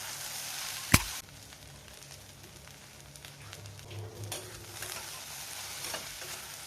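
Okra (bhindi) frying uncovered in a pan for a quick Bihari bhujia, with a sharp clatter at the start, then a soft steady sizzle and scraping stirs, fairly quiet and close.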